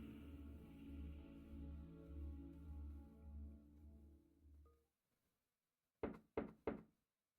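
A door in a visual novel game is knocked three times in quick succession, crisp and close, after background music fades into a brief silence.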